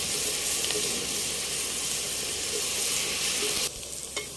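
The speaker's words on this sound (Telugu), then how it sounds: "అల్లం వెల్లిపాయ పేస్ట్ అలా వేగాలి, బాగా ఎర్రగా వేగాలన్నమాట" Ginger garlic paste frying in a pan for a village-style country chicken curry pulao, a loud, dense, continuous sizzle and hiss that drops abruptly near the end.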